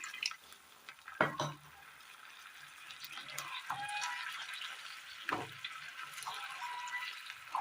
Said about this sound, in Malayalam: അല്പം ചൂടുവെള്ളം കൂടി ഒഴിച്ചു കൊടുക്കാം